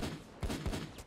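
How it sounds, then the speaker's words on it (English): Automatic shotgun firing HE shells in the heist game Payday 2, a few quick sharp blasts in rapid succession, loud and close. "HE shells work great with automatic shotguns"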